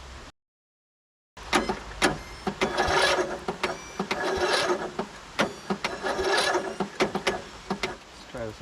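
The Briggs engine on a 2009 Craftsman YTS 3000 lawn tractor cranks hard on a jump pack without starting, giving a loud, uneven, rasping churn with rhythmic surges after a short gap of silence.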